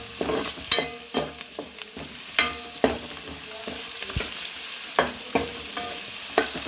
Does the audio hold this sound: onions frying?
yes